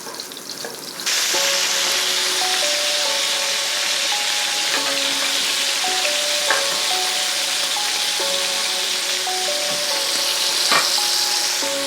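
Chicken meatballs pan-frying in a pan set off a loud, dense, steady sizzle that starts suddenly and holds unbroken, with faint clicks over it and a tonal hum underneath, close by.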